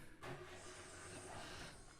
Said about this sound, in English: So the app makes some fake train noises.